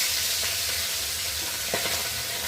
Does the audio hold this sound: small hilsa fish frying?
yes